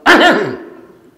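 A man demonstrates a throat clearing, one short, loud, rough burst close by that trails off quickly into quiet.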